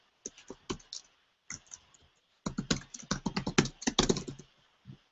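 Typing on a computer keyboard: close, crisp key clicks in short bursts, a few isolated taps and then a faster, denser run of keystrokes, with quiet pauses between and no voices.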